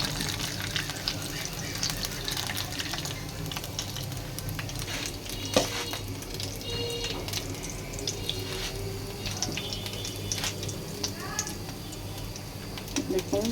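Fresh corn fritters (piyaju) sizzle steadily in hot oil for the whole stretch, a dense continuous crackle with a few sharper pops and utensil scrapes, close and moderately loud.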